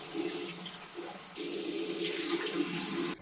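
Water runs steadily from a tap into a sink during a skincare wash, a continuous splashing stream that grows fuller and louder partway through before cutting off abruptly at the end.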